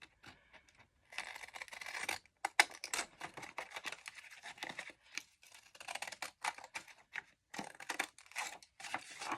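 Small Fiskars stamp scissors snip out paper stamps in quick, irregular runs of crisp cuts and rustling paper, broken by short pauses. The cutting is close and clear.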